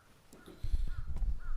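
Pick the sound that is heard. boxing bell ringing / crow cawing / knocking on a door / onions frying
crow cawing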